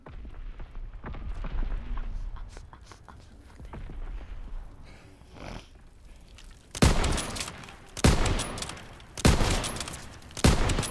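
Bursts of gunfire from the Call of Duty WWII game in a one-on-one match, a few sharp loud volleys spaced a second or so apart after quieter clattering and movement sounds.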